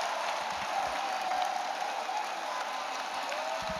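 Congregation clapping for Jesus Christ during a prayer service, a steady dense wash of applause from many hands with faint crowd voices, sustained and fairly loud throughout.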